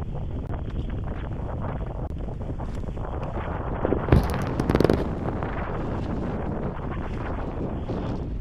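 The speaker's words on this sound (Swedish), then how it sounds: "Nu blåser det 15 kanske." Strong winter wind buffets the microphone while a tent is pitched in a storm, a steady, loud, rumbling roar throughout, briefly swelling with a sharper gust midway.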